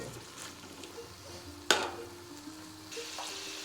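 Goat meat sizzling in a pan for pulao, a steady close frying hiss with a sharp clink of a spoon partway through and stirring sounds, no talking.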